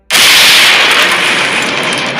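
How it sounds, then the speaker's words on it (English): An overheating machine explodes in a loud, close blast that bursts in suddenly and rolls on as a sustained roar, slowly fading, used as an effect in a superhero story read aloud. "the machine overheated, causing an explosion that shook the room"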